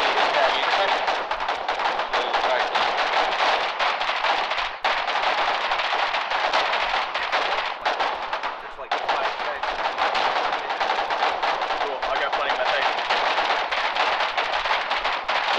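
Dense, sustained gunfire in the video game Foxhole during a trench battle, with rapid continuous shots and bursts blending into a loud barrage, and voices talking over it.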